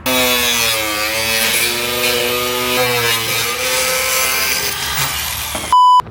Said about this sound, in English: We're gonna cut out this middle piece on the bumper.